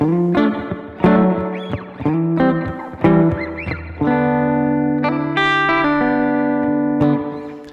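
Electric guitar notes and chords through a Strymon Blue Sky reverb pedal ring out with a washy reverb tail, played alone at moderate volume, the last chord sustaining and slowly fading.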